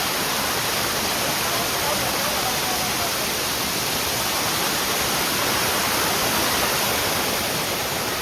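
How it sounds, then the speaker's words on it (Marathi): A hidden waterfall near Khed, in the Rajgurunagar area by Wandre dam, roars in a loud, dense, unbroken rush of falling water close by, with no other sounds over it. "हा वॉटरफॉल दाखवते"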